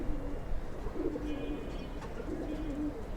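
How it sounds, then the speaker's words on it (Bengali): Pigeons in an indoor coop holding young chicks give soft, low, repeated coos, fairly close but quiet, over a faint steady background. "এটা আমাদের ভিতরের কবুতরের ঘরের বাচ্চা, লালপাতি বাচ্চা।"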